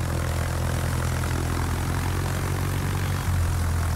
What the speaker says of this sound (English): Planes out to try to spot things behind.